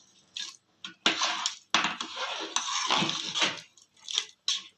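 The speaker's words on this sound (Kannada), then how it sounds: "ಮಿಕ್ಸ್ ಮಾಡಿಬಿಟ್ಟು ಕುಕ್ಕರ್ ಮುಚ್ಕೊಳ್ಳೋಣ." Green pulao is stirred in a pressure cooker with a metal spoon, scraping and clattering in short close bursts, then the lid clanks shut amid brief pauses.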